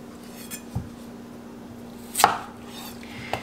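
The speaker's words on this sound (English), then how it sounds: "You just kind of want to cut the potatoes in obliques, small obliques." A knife chops potatoes into small oblique pieces on a cutting board, with a few sharp, separate knocks against the board and quiet gaps between them.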